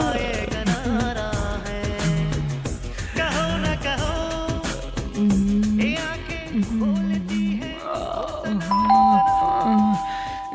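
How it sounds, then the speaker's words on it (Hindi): A doorbell chimes at one in the morning over loud music playing in a home, with sustained ding-dong tones coming through the song. "बीच में आके कौन घंटी बजा रहा है?"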